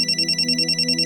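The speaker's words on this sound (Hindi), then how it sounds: "तुम्हारा फोन बज रहा है।" An electronic phone ringtone trills in a fast, even pulse, close and loud, heard alone in a Hindi crime drama scene.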